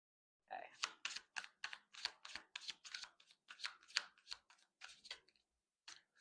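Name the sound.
tarot cards being shuffled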